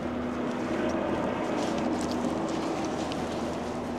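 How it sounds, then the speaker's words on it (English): A steady, droning helicopter engine rumble with a low hum holds throughout, passing at a distance over Palisades Tahoe. "there's a helicopter going up there"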